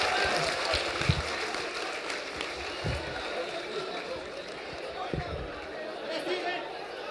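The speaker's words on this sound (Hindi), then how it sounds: "चलिए अवध ओझा जी के लिए जोरदार तालियां" An audience applauds Avadh Ojha at the Lallantop Adda event, a continuous, fairly loud wash of clapping and crowd noise with a few thumps.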